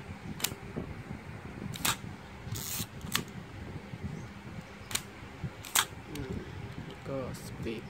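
Nikon FM2 film camera shutter fired on its bulb setting during a bench test, giving sharp mechanical clicks spaced irregularly across several seconds, close up over a low background hum with faint voices.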